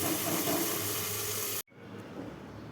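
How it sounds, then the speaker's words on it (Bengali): Koi fish frying covered over low heat, a steady hiss and sizzle in the pan that cuts off abruptly, leaving only faint quiet crackling afterward. "এবার অল্প আঁচে একটু ঢেকে ভাজছি।"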